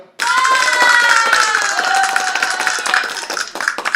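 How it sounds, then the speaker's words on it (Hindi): Class 12 students clap together in a physics classroom, with a burst of hand claps under overlapping, sustained children's voices that trail off into scattered, uneven claps. "जिनका सही है उनके लिए तालियां"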